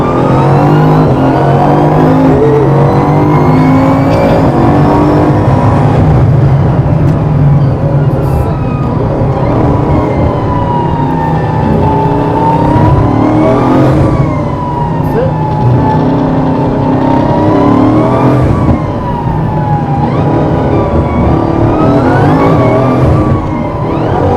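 Performance car accelerating hard in second gear under full power, a loud continuous engine roar with rising and falling pitch sweeps as the driver repeatedly goes on and off the throttle, close and sustained throughout.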